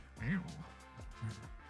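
A person imitates a cat with a short rising meow-like vocal sound, close and clear, followed by a couple of softer voiced sounds in a casual conversational setting.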